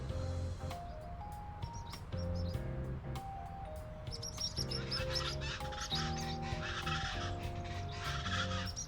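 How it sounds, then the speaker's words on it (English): Scattered high bird chirps and tweets in the video game Trails Beyond the Horizon, heard alongside steady melodic background music. "Oh man, they've even got birds."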